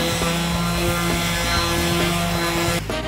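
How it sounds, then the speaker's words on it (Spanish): A power sander works an MDF board with fine sandpaper, giving a loud, steady mechanical drone with a rhythmic pulse that cuts off abruptly near the end, with no talking. "Procedemos a lijar nuestra madera o nuestro tablero"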